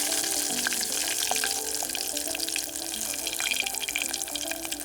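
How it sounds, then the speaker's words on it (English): Bannock fry bread deep frying in hot oil gives a dense, steady sizzle and crackle, close and continuous with no voices. "we make a deep fried fry bread"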